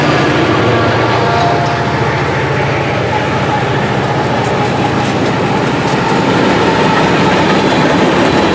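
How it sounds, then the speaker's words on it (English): A CSX freight train led by GE AC44CW and ES44AC-H locomotives and an EMD SD70MAC rolls past close by, a loud, unbroken roar with rhythmic wheel clatter over rail joints. "AC44CWs, 2 GE ES44AC-H's, and 1 EMD SD70 Mac"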